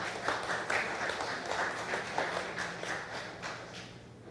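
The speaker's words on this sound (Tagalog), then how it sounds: "Pumapalakpak kayo." A church congregation applauds with a dense, even wash of clapping that holds steady for about four seconds before easing slightly at the end.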